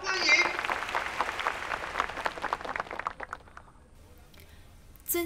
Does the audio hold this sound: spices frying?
no